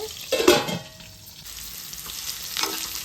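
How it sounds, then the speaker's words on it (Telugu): Bitter gourds fry in a pan on a medium flame with a steady low sizzle, while a spoon stirs with a loud clattering scrape at the start and a softer scrape near the end. "ఇలా వేపుకోవాలి. ఇంకా ఫ్రై అవ్వాలి ఈ కాకరకాయలు."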